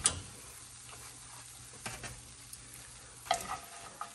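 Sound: doughnuts frying in hot oil

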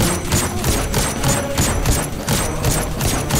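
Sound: gunfire from a weapon in the video game Destiny 2

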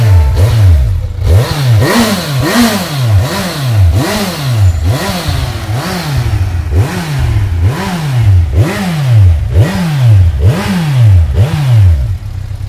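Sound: sport motorcycle engine revving

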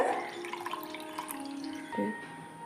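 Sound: milk being poured onto chicken

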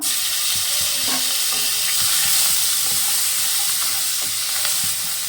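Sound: onion paste frying and being stirred in a pan

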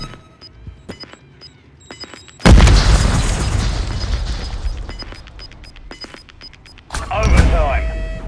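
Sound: grenade explosion in Call of Duty MW3 video game

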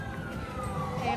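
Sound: emergency vehicle siren on street

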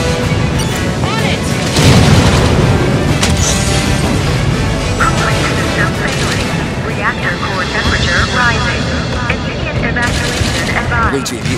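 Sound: reactor explosion in the video game Halo 5: Guardians

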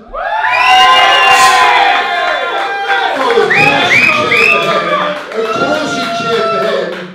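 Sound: wrestling crowd cheering for Simon Miller

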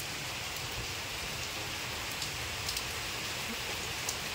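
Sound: heavy monsoon rain falling

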